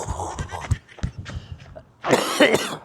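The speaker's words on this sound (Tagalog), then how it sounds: "Grabe talaga tong ubong to." A person coughs in a string of short, rough bursts, followed by a harsher, longer cough close to the listener.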